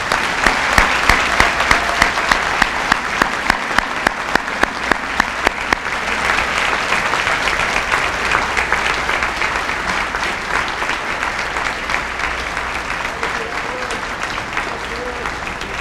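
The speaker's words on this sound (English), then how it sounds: "Let's give these students a round of applause" Sustained audience applause for students at a high school senior awards evening, with sharp individual claps standing out early before settling into a steady, dense wash of clapping from a large crowd.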